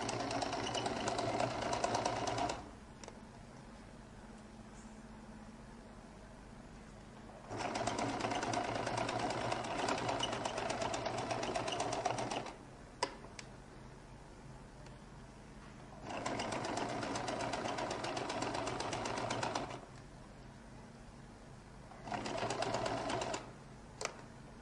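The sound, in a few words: sewing machine stitching jacket collar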